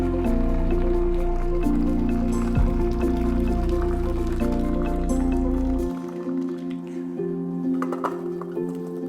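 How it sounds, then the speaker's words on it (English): Water from a pot of boiled potatoes pours off into a sink, a steady gushing splash that thins to scattered drips and trickles near the end, close by with no talking. "Drain out the water from the potatoes."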